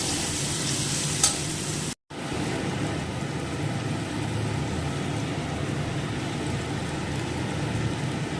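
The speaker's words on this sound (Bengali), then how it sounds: "পেঁয়াজটা একটু ভাজা।" Onion and mixed vegetables fry and are stirred in a pan for a breakfast dish, a steady close sizzle with scraping stir sounds throughout, briefly cut silent for an instant near the start.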